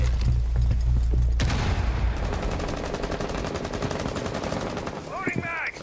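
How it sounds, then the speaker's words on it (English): Rainbow Six Siege gameplay with a frag grenade blast and sustained rapid gunfire, loud and dense, following a low rumble; brief game voice chatter comes near the end. "Throwing frag grenade."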